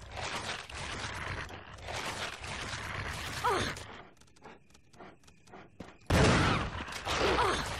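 A shotgun fires in Resident Evil HD, with loud, harsh blasts and dense bursts of gunfire noise, a quieter stretch of scattered clicks and small sounds in the middle, then another heavy blast near the end.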